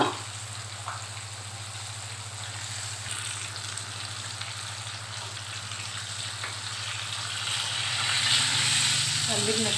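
Fish frying in a pan, a steady broad sizzle with oil crackle throughout, growing slightly louder toward the end, with a low hum underneath.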